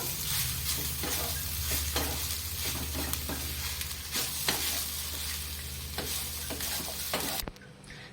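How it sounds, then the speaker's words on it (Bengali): Grated coconut is being fried and stirred in a pan with other ingredients for coconut naru. It sizzles steadily and close by, while a spatula scrapes in repeated strokes and gives small clicks. No one talks. "নারকেল দিয়ে ভালো করে সব উপকরণের সাথে একদম মিশিয়ে নেব।"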